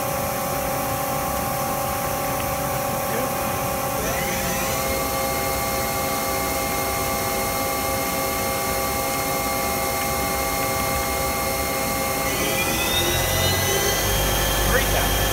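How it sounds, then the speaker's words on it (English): A Cincinnati Falcon 200 machine spindle spins up in steady stages, a continuous mechanical whine with bright tones that climb in pitch twice as the speed steps higher, over a constant background hum. "Let's go ahead and kick the spindle up here."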